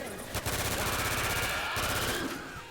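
Rapid automatic gunfire in a multiplayer shooter game, a dense continuous burst of shots lasting a couple of seconds, loud and close, with no talking over it.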